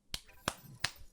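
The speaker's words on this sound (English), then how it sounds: "What was the random clap?" Three sharp, evenly spaced claps or snaps ring out close and crisp, each a quick isolated crack, with no voices.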